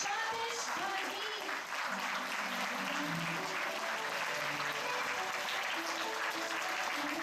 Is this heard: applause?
yes